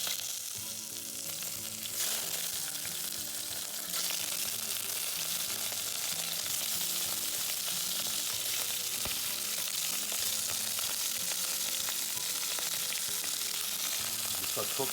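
Shrimp frying in olive oil over high heat for a Spanish brothy rice, giving a loud, steady, close sizzle that runs unbroken throughout with no talking.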